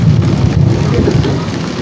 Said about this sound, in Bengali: আজকে প্রচুর পরিমাণ বৃষ্টি হয়েছে